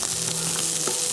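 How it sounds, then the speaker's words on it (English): Vegetables sear in a hot skillet for a tofu stir fry, giving a dense, continuous close sizzle with no voices over it. "just let the vegetables hang for a second in the pan so you can get those pretty seared bits"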